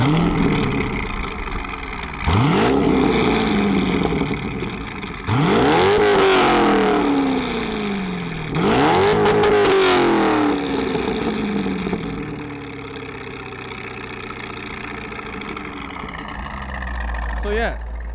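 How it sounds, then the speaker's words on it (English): A 2004 C5 Corvette with a Corsa Extreme axle-back exhaust revs three times, each climbing sharply to redline with a loud exhaust roar, then settles into a rumbling idle. "And then here's the revs, 2, 4, 6, and then the red line."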